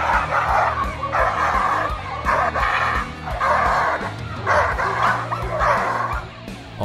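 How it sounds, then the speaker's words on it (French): A Dogo Argentino barks repeatedly in a steady rhythm, loud and close, over a low background hum. "Regardez l'effort qu'il faut fournir pour retenir ce chien."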